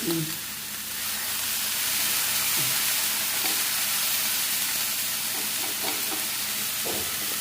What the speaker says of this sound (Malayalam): ഇതൊരു വെള്ളമയം പോലും ഇല്ലാതെ അങ്ങോട്ട് ഇളക്കി എടുക്കും